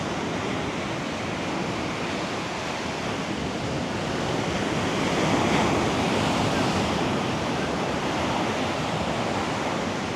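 Surf on Echo Beach in Canggu, Bali, makes a continuous broad wash of breaking waves, swelling slightly midway and never letting up.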